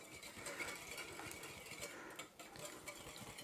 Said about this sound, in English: So I'm going to switch over to my whisk now.